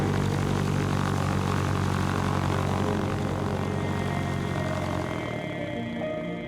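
A seaplane's propeller engine drones steadily and loudly throughout a final approach and landing on a lake, a continuous rumble that eases slightly toward the end with no voices.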